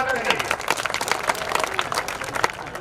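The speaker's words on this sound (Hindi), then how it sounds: "जोरदार ताली बजाकर इनका स्वागत करें।" Loud, dense applause from a crowd at an outdoor political rally in Gaura Bazar, Varanasi, welcoming a district youth wing president, with rapid claps running steadily throughout and voices mixed in.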